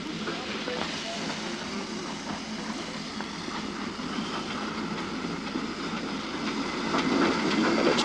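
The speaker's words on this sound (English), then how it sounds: "Here's the second train coming in." Steam locomotive No. 4 Edward Thomas pulling a full train into Abergynolwyn on the Talyllyn Railway, a steady mid-distance rumble of wheels and rail clatter that swells louder toward the end.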